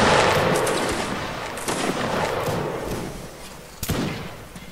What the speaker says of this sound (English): And fire at will.